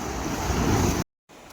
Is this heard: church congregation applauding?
no